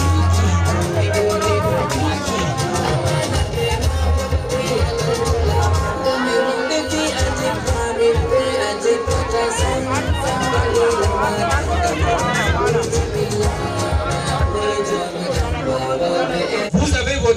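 A large enthusiastic crowd welcomes a political delegation in Cameroon, a dense continuous roar of cheering, chatter and shouting voices, loud and close throughout the scene.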